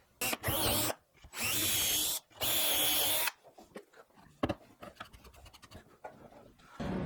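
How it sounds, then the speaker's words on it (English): A power drill whirs loudly in three bursts of a second or so each, with short pauses between, followed by quieter scraping and handling noises. "Drill the holes."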